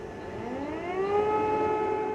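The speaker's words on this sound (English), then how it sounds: "The early sirens wailed in Ukraine's capital once more." An air raid siren wails over Kyiv, Ukraine's capital, as the city comes under Russian attack. It is a steady, loud, rising tone with layered harmonics, heard on its own with no voices.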